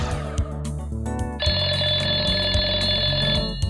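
A telephone rings loudly and close by with a bright, repeating electronic bell tone that shifts pitch partway through, sounding alone without any speech.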